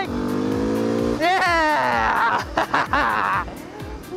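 A car drifting in a video game, its engine droning and rising in pitch as it revs through the slide, with excited voices shouting and laughing over it.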